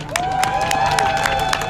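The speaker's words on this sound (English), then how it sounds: "Please give another round of applause for Monique Dottie." A crowd applauds at a protest rally in Minneapolis, a dense wash of clapping with scattered sharp claps, heard steadily under a tonal whistle-like sweep from the public address.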